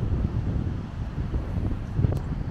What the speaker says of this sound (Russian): Шторм, ветер сильнейший.